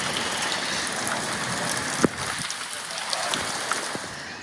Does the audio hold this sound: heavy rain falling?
yes